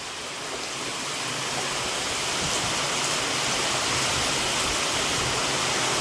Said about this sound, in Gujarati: મસ્ત મજાનો વરસાદ પડે છે